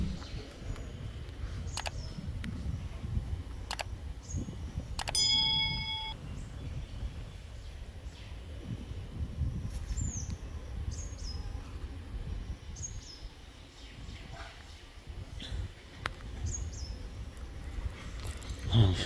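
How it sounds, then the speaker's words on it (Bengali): Small birds chirp and whistle in short scattered calls across open countryside in rural Titas, Bangladesh, faint over steady wind and low ambient rumble. "আপনারা একবার জাস্ট ফিল করেন পাখির কিচিরমিচিরগুলো।"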